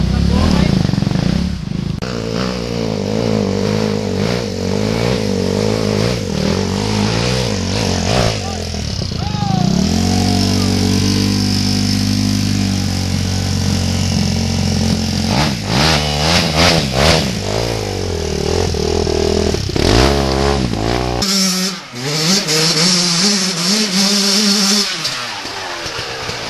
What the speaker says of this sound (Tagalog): Ang motor yan, napakalakas.